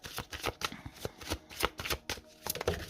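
Tarot cards are shuffled and drawn in a run of quick, crisp riffling flicks and soft slaps, close and moderately quiet with no voice over them.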